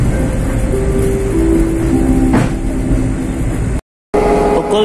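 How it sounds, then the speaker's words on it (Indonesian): The Rajabasa train pulls into Sulu Subang station in Indonesia, loud and close, with a rumbling diesel engine, a brief whistling squeal, then a sudden cut before the engine noise returns. "kereta api Raja Basa tiba di stasiun Sulu Subang"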